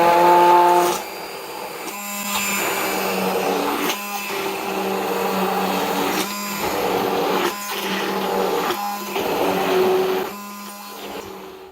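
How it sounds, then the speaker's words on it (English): Handheld immersion blender pureeing cooked cauliflower into a mash, a loud steady motor whir in repeated bursts with brief pauses between them, close up and with no talking. "Let me get my hand blender."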